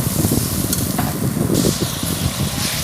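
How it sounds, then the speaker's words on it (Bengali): A spice paste of chili powder, turmeric, coriander, cumin and mustard-poppy paste sizzles steadily in a pan for fish curry, a close, continuous frying hiss with stirring scrapes running through it. "লঙ্কার গুঁড়ো, হলুদের গুঁড়ো, ধনে মশলা, জিরে গুঁড়ো ও সর্ষে পোস্ত পেস্ট সব একসাথে দিয়ে রেখেছিলাম। সেটা দিয়ে আমি ভালো করে কষে নেব।"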